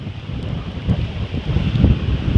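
Strong cold wind buffeting the microphone at a riverside waterfront in Thorofare, New Jersey during a storm, a loud continuous low rumble with gusty swells and no voices.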